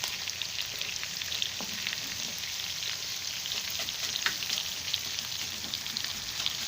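Ginger chicken sizzles and fries in a pan as it is stirred and mixed, a steady crackling hiss with small scraping stir sounds, close by and without talk.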